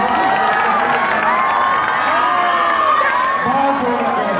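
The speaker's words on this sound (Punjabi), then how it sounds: "ਪਿੰਡ ਵਾਸੀਆਂ ਨੂੰ ਬੇਨਤੀ ਕਰਾਂਗਾ ਕਿ ਜ਼ੋਰਦਾਰ ਤਾੜੀ ਮਾਰੀ" Villagers clap and cheer loudly for a volleyball team at an outdoor match, a dense continuous roar of crowd noise with shouting children and excited voices over the applause.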